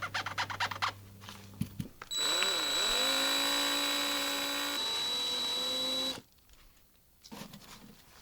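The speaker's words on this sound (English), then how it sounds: "Easy way to do this is to just flip it over and drill out the little post right there" A small drill whines steadily for about four seconds while drilling out the post of a Hot Wheels die-cast car, close and fairly quiet, its pitch dipping as it bites, with handling noises before and after.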